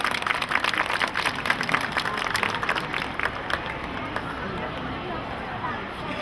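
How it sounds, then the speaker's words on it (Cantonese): Audience applause at an award ceremony at a Tung Chung carnival: dense, steady clapping from a crowd, strongest at first and then slowly fading, with voices murmuring underneath. "我哋俾掌聲，周小姐唔該"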